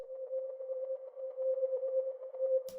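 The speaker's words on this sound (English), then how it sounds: "For my next melodic sound, I got this pad from my upcoming multi-kit" A soft, steady synth pad one-shot from a multi-kit, holding a single sustained tone with a gentle pulsing shimmer before a brief click at the end, heard alone.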